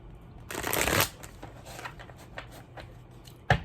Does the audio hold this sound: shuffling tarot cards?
yes